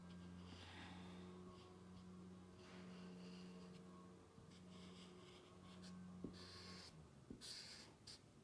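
A marker sketches an outline of WALL-E's wheels on paper, giving steady close scratchy strokes over a constant low hum, with brief louder swipes near the end and no talk.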